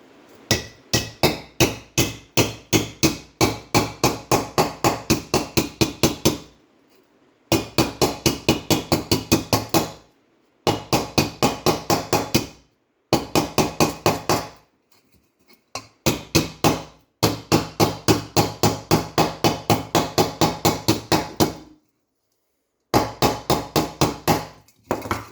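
A socket wrench knocks dents out of a classic car's metal body panel in rapid, loud bursts of sharp taps, each run of a dozen or so strikes separated by brief silent pauses.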